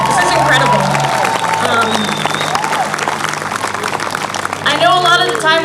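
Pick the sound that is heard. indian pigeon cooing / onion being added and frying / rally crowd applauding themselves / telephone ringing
rally crowd applauding themselves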